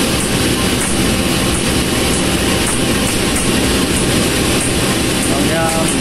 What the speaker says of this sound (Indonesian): KA Pasundan dengan tujuan Kiara Condong persiapan akan diberangkatkan kembali